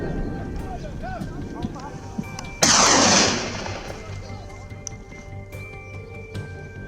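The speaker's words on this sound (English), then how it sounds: "A burst of gunfire followed, sending the herd into chaos." A sudden loud burst of gunfire from a wild boar hunt on farmland cracks out once, then a noisy wash of echo and scrambling trails off over a few seconds, with sounds of movement and activity before and after.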